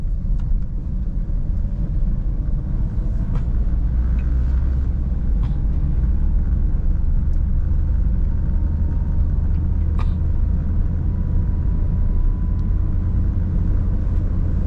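A manual car's engine hums steadily in second gear while driving, a continuous low rumble with road noise, close and even throughout, with no talking.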